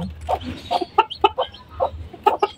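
Newly hatched Chinese Silkie chicks peep in a quick, irregular run of short, bright calls, close and fairly clear, with no talking.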